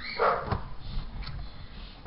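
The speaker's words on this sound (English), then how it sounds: "And now the dogs are barking and Shauna's trying to quiet them down." Dogs barking indoors, a short burst of barks and yips near the start followed by quieter whimpering sounds, moderately close.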